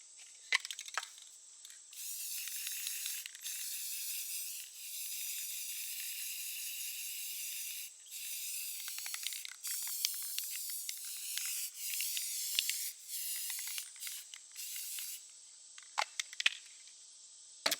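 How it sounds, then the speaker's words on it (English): Rust-Oleum spray paint hissing from the can onto cabinet hardware, long steady hissy bursts with brief pauses between passes, fairly quiet and alone. "I'm going to spray paint these, the hardware"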